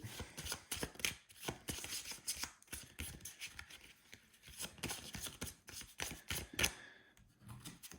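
A deck of cards for a tabletop game is shuffled alone, riffled in repeated quick bursts of soft papery flutter and taps, close and quiet, with no voices.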